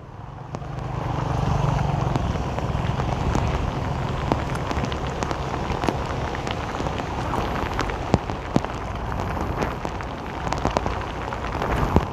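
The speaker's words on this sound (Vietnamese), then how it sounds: "Trời đang mưa rất lớn luôn." Heavy rain pours down beneath an overpass in Saigon, a loud, continuous hiss of drops striking surfaces with scattered sharper splashes and passing traffic rumbling underneath.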